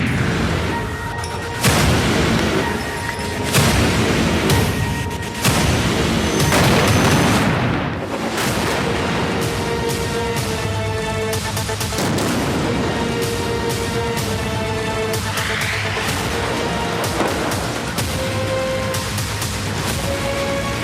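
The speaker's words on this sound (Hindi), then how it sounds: "सेहूनी अफवाज की एक बार फिर गज़ा पर शदीद बमबारी।" Repeated heavy booms and blasts of bombardment on Gaza, some sharp and close, others rumbling, loud and irregular throughout with no voices.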